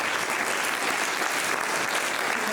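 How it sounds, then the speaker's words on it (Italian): A concert audience claps at an alpine brigade band performance, thick sustained applause from a large crowd, loud and unbroken throughout. "Un applauso anche a Flavia, la nostra matita"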